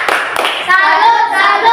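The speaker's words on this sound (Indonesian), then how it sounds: "Kita beri aplaus yang meriah untuk teman-teman kita." A group of schoolchildren in a classroom clap in a salute cheer, sharp hand claps at the start giving way to voices chanting in unison.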